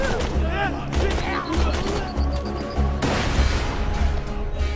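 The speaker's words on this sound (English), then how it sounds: "Oh, oh, those are grenades." Grenades going off in the video game Borderlands 2, several thumping bursts and crashes over about five seconds amid game noise and music, with a voice talking briefly.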